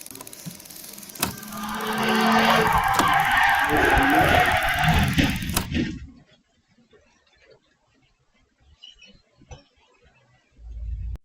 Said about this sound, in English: The truck held its course until it finally struck the Volkswagen